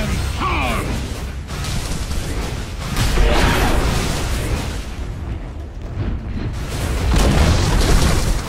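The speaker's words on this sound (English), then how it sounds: "Dire's bottom tower has fallen." In the Dota 2 video game, the Dire bottom tower is destroyed, bringing deep booming rumbles and crashing bursts that swell and fade, surging again near the middle and end over continuous game ambience.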